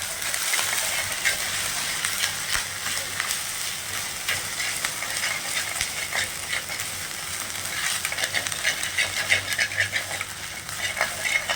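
Ginger garlic paste and curry leaves sauté in hot oil, a steady, loud sizzle and crackle throughout with scattered pops and occasional stirring scrapes, no talking.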